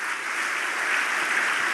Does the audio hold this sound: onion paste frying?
no